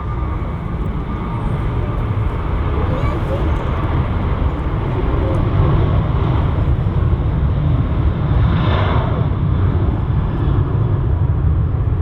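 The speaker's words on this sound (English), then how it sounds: "Listen to that engine roar." A loud, continuous jet engine roar from an airplane on runway 05L at Manchester Airport fills the air, a broad rushing rumble that holds steady and swells slightly, with no talking.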